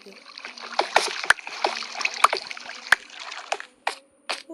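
Water splashes in Minecraft come as a series of short, sharp splashing hits repeating irregularly, heard close and mixed with voices talking.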